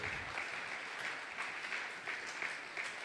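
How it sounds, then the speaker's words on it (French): A church congregation at a Sunday service claps for Jesus, producing steady, dense applause from many hands that holds at an even level from start to finish without talk. "Acclame très fort, acclame très fort."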